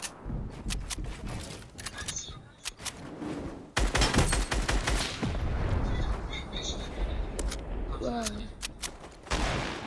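Rapid bursts of gunfire in the video game Fortnite, loud and dense with overlapping shots and booms, while players talk excitedly over the firing.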